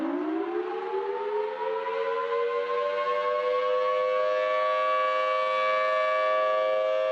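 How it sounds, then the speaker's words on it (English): A Federal Signal Thunderbolt mechanical siren winds up and holds a loud, steady wail with a rich chord of tones, rising slightly in pitch as it reaches full speed and sounding continuously with no talk. "That is the Federal Signal Thunderbolt siren."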